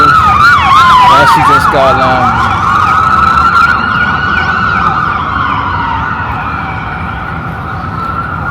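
An ambulance siren wails loudly as the vehicle rolls through a city street, its rising and falling tone sweeping past close by and slowly fading, with traffic rumble beneath and a brief voice speaking over it.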